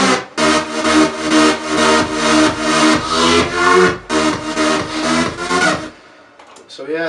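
Several bass synth layers, a high bass and a gritty rave bass, pump together in a dense, loud electronic groove with a steady rhythmic pulse for about six seconds before cutting off into brief quieter noises.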